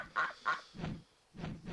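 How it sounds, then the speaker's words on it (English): Cartoonish ducks honk and quack in the Frogger video game, four short nasal calls in two quick pairs, fairly quiet and with no talk over them. "I think these are ducks."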